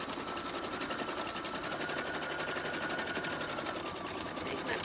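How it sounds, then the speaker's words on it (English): A sewing machine stitches a placemat and sweatshirt into a pillow, its needle running in a steady, close, continuous whir with no pauses. "I'm going to go ahead and stitch to the corner"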